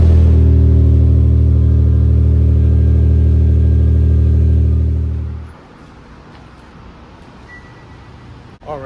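A Genesis car's engine runs on a cold day with a steady, even hum, then cuts off abruptly, leaving near silence.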